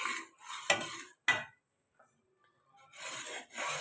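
Chana dal is stirred briskly in a pan while roasting, with scraping, rasping strokes in quick bursts and a short pause midway; no one talks.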